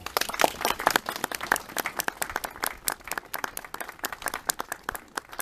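A small crowd claps steadily for several seconds at a monument unveiling ceremony in Osielec, Poland, the applause dense and fairly close, with no voices over it.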